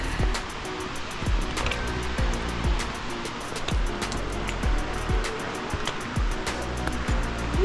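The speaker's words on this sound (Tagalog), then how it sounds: "Dito tayo sa falls." A waterfall at Grassi Lakes in Canmore, Alberta, roars in a constant, loud broadband rush of falling water from close by. Sharp clicks and knocks cut through it, and no voices are heard.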